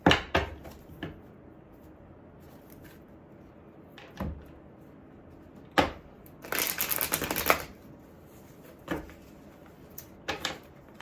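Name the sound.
shuffling cards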